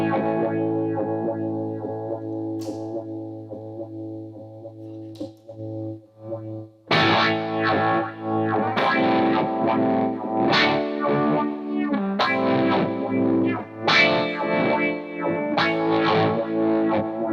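Distorted electric guitar runs through a flying-pan square-wave phaser with the pan switch engaged, sustained chords first, then choppy rhythmic strums swirling and pulsing, loud with no talking.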